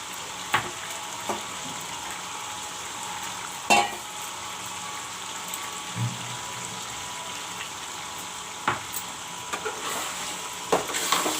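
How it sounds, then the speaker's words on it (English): Thick masala paste for chicken curry sizzles steadily in a hot pan, a continuous hiss broken by occasional clicks and the scrape of stirring. "Now the masala also will be fried up"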